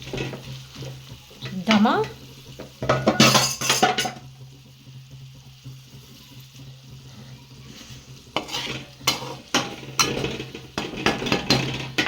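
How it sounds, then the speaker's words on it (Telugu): Mutton frying on a low flame is stirred in a pan, with a steady sizzle broken by loud scraping and clanking bursts from the spoon against the pan. A brief spoken remark comes early. "మటన్ కలిపేస్తున్నాను"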